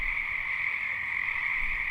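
A dense chorus of frogs croaking together in a steady, unbroken trill that continues throughout.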